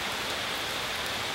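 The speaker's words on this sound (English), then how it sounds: "So you notice I didn't stop when it began raining" Monsoon rain falls steadily on surfaces outdoors, a soft, even, continuous patter of drops heard alone without voices.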